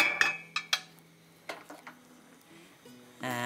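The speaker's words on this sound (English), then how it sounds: "so then we can just go ahead and take them out of the pan" Toasted pumpkin seeds are scooped out of a pan with a utensil: a few sharp metallic clinks and scrapes at the start, then lighter rattling and a brief clatter near the end.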